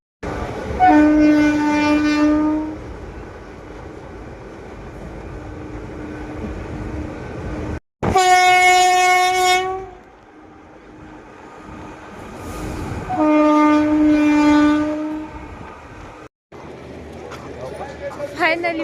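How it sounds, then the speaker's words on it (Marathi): Passenger train sounding its horn in long, loud blasts, with the rumble of the moving train between and under them. "ही वाली ट्रेन होती आमची"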